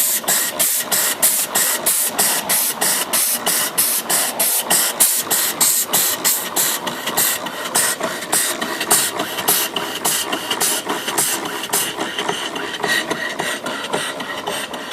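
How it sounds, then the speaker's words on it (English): A box bed mill steam engine with a flyball governor runs on steam, chuffing in a quick, even rhythm of sharp hissing exhaust beats close by, with a mechanical clatter underneath and no talk. "Beautiful running engine."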